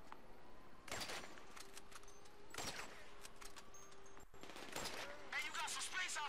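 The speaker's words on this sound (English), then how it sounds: "I'm being shot at and I have no idea where" Gunfire in the Grand Theft Auto 5 video game: several sharp, loud shots crack out at irregular intervals over a steady background hum, with a brief electronic chirping near the end.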